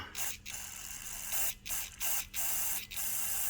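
Carburetor cleaner sprayed through a thin straw into the carburetor of an old snowmobile long stored in a barn, a run of five or six short, hissing bursts up close, each cut off abruptly with brief pauses between.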